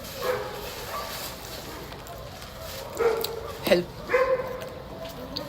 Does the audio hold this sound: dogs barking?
yes